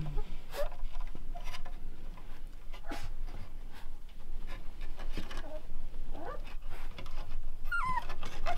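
Rottweiler puppies play-fighting in a heap, with busy scuffling, small yips and whimpers running continuously up close, a few sharp squeaky cries near the end.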